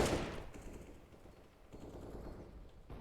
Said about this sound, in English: a quick shot with the AK